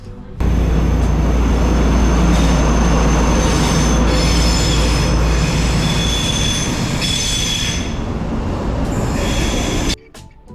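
The Blue Pullman train rushes past close by on the Northumberland coast, a loud sustained roar of wheels with high metallic squeals, cutting off abruptly near the end.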